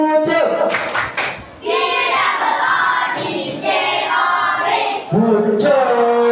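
Elementary school classroom where children clap in a rhythmic pattern for a classmate, bursts of sharp clapping in quick bunches mixed with chanting young voices, loud and close with short pauses between rounds.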